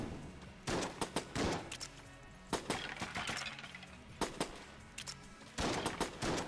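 Rapid bursts of gunfire from the video game Enter the Gungeon, with clusters of sharp shots and crackling impacts in quick repeated volleys, fairly faint and without any talking.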